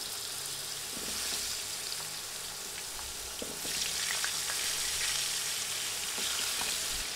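Potatoes frying in oil in a pan after fish, lightly salted: a steady, close sizzle with occasional soft stirring scrapes, no talk.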